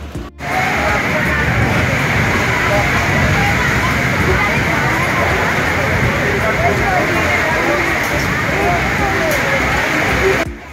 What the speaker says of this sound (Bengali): প্রচুর ঝড় হচ্ছে, কালবৈশাখী ঝড় উঠেছে, বাইরে কত হাওয়া দিচ্ছে দেখতে পাচ্ছ,